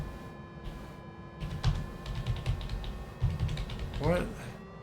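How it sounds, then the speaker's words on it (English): Computer keyboard keys tapped during a flight-simulator session, a few scattered clicks and short bursts over steady background hum and faint music. "I'm going to use my keyboard buttons just in case."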